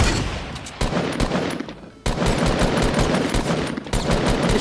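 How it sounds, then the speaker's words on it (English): Rapid gunfire in Fortnite Battle Royale, loud bursts of close shots in quick succession with short gaps between volleys. "The shots!"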